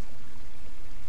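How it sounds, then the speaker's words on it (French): Rain falls on the ground in the Wii U version of the Splinter Cell Blacklist video game, a steady, fairly loud wash of hiss and patter that runs unbroken, with no voices. "avec la pluie qui tombe vraiment par terre"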